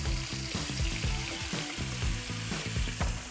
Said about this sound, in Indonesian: lo langsung aja panasin minyak di api sedang, terus juga lo langsung tumis bumbu alus